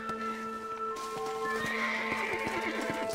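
A horse in the Red Dead Redemption video game gives a whinnying neigh over rhythmic clip-clopping hooves, close and clear, with no talk.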